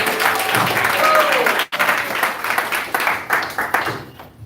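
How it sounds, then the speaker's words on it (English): Devotees at a Namahatta gathering in La Mercy give someone speaker a round of applause: a dense, even wash of clapping with a brief dropout midway, easing into lighter claps by the end. "Let's give Mataji another round of applause."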